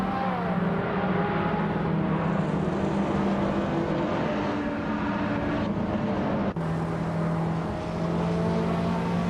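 Race cars, including a 1984 Audi Sport Quattro from the 1980s supercar class, roar off the start at Alice Track. A dense, loud, sustained engine drone shifts pitch partway through, with no voices.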